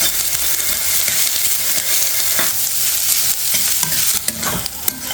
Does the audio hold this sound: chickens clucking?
no